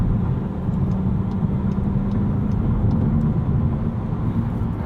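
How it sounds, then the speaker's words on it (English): Steady engine and road drone from a 2020 Volkswagen Jetta GLI with a six-speed manual, pulling at highway speed after a downshift to fourth gear, heard as a constant low rumble with no talking. "Actually going to downshift to 4th here just to get a little extra power."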